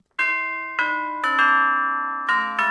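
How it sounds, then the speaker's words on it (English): A doorbell rings out clearly several times, bright ringing bell tones striking one after another and sustaining, with no voices. "I'll try this doorbell."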